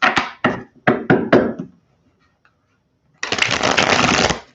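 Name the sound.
shuffling cards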